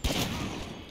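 Rapid burst of video game gunfire, a dense close volley of shots starting sharply and trailing off over under a second.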